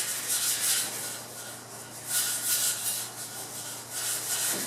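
Scuffing the underbody of a 1973 K5 Jimmy before bedliner goes on: close, rhythmic abrasive rubbing strokes swelling and fading in regular waves, with no voices.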